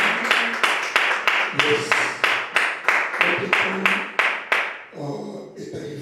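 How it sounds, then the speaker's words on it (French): A church congregation at a Wednesday prayer service claps together in a steady, even rhythm, about a dozen sharp unison claps that then stop, followed by a brief voice. "On peut applaudir notre Dieu là où nous sommes avec lui."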